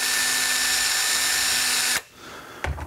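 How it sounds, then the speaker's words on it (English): A power drill spinning a diamond hook sharpener whines steadily at high speed for about two seconds, then stops abruptly, followed by a faint clunk. "I just chuck it up in my drill."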